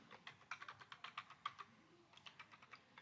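Rapid, fairly even keystrokes on a computer keyboard while a password is entered for a SQL Server login, close and quiet with no talk.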